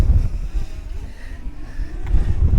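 Strong gusting wind buffets a small DJI Mini 2 drone flying in bad weather, a loud, rough roar of blustery air that swells and dips without any voices.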